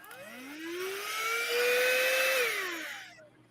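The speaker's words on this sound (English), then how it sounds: "I got a little USB vacuum here." A small USB vacuum cleaner whirs up to speed, holds a rising whine, then spins down, all within a few seconds, close and fairly loud with no talking.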